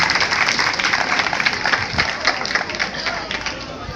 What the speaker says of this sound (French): Applaudissez bien fort pour tout le monde.